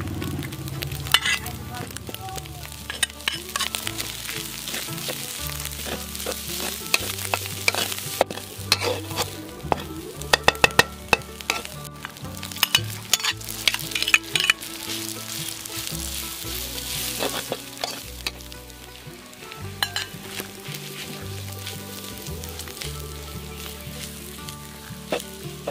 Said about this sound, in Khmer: តោះដាក់ប្រេងឆាថែមបន្តិចដើម្បីរំលាយគ្រឿង